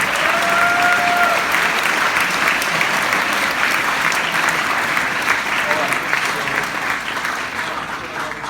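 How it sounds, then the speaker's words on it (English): A school sports assembly audience claps steadily in a large room, dense applause filling the space from start to finish with a slight fade near the end; some voices mingle in the crowd. "We give them just an applause for that."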